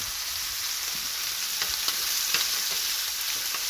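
Steak searing in an oiled pan with thyme and garlic, a steady close sizzle and crackle with a few brief sharper pops, heard alone without talk.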